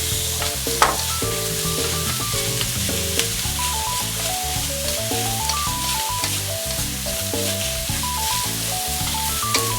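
Shiitake mushrooms stir-fry in a hot pan for a curry pilaf, with a steady sizzle and stirring running throughout beneath a light melodic background tune.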